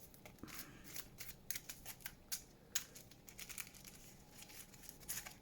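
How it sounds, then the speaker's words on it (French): A deck of cards is riffled and shuffled by hand in quick, uneven bursts of crisp snapping and rustling, close and fairly quiet. "Et bien on remélange."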